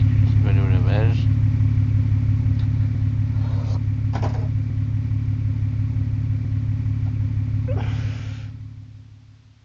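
In the game Pumping Simulator 2, a vehicle arrives at the car wash with a constant low engine hum and rumble, brief voice sounds on top, then fades out at the end.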